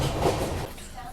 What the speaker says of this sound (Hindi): नई दिल्ली रेलवे स्टेशन पर अपनी अजमेर शताब्दी एक्सप्रेस यहाँ पे पहुँच चुकी है